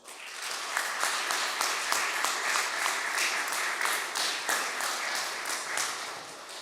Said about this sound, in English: you could applaud after after I announce each name